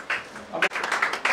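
A church congregation applauds at the grand opening of a prayer hall in Indore, a short burst of dense clapping that swells near the end, with voices mixed in.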